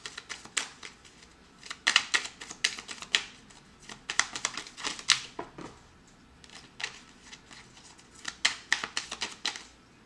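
Tarot cards being drawn and shuffled from a deck, with close, dry flicking and snapping bursts in irregular clusters throughout, no talking.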